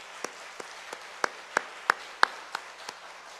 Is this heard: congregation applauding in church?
yes